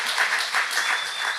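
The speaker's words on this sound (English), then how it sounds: "Give him a round of applause." An audience claps steadily at a community podcast event, a dense wash of applause that holds throughout the brief moment.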